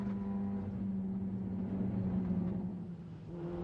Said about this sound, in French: on se retrouve à bord de la voiture d'Éric Laure